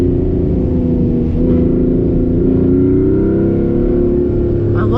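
A 2014 Porsche Cayman S engine drones loud and close from inside the cabin, its pitch climbing smoothly as it revs under acceleration, with faint talk underneath.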